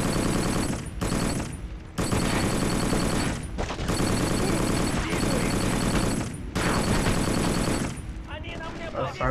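Bursts of loud, rapid gunfire from a heavy-recoil weapon in the shooter game Black on PS2, coming in long sustained volleys separated by brief gaps, with a voice talking over the shooting at times.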